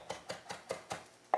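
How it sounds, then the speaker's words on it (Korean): A knife chops food on a cutting board in a home kitchen as a cook prepares a German-style lunch: six crisp, evenly spaced taps at a quick steady rhythm, close and fairly quiet. "칼질이 능숙한데"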